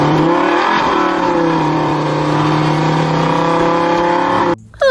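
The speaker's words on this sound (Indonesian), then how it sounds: "Keluarlah motor balap." A toy racing motorbike gives off an electronic sound effect of a revving engine, loud and sustained with rising and falling pitch, cutting off abruptly near the end.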